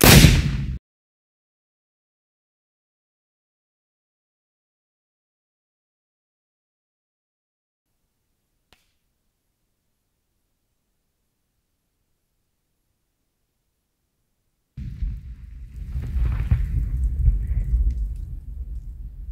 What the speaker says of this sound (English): This is where the mine exploded.